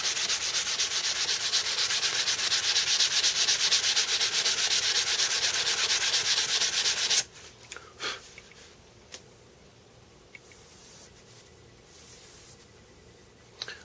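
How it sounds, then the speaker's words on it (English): Steady, continuous sanding of a bone knife, a rough rubbing hiss for about seven seconds that then stops abruptly. Faint scattered handling noises follow. "Give it a good sanding with it, and then we'll go over to like steel wool and buff it up."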